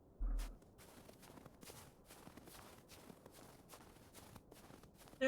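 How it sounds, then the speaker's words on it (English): Loud footsteps of the player character in the video game Chionophile, a steady rhythmic run of close, crunchy steps over quiet background music. "My loud-ass footsteps ruining the background music."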